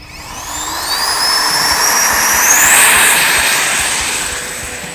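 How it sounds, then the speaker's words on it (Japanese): A radio-controlled Kawasaki T-4 jet model with an 80mm electric ducted fan passes by with a loud, steady whine that rises in pitch and swells as it flies close, then slowly fades. "ラジコン飛行機としては 80mm EDF で機体サイズの割に大型の EDF"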